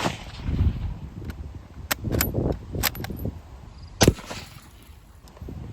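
An 8mm Mauser rifle is fired, producing several short, sharp cracks spread over a few seconds, with the loudest report near the end against a low background hum.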